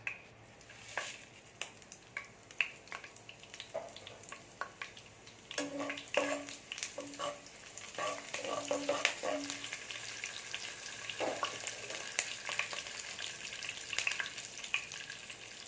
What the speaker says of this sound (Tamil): நல்லா பொறிஞ்சி வருது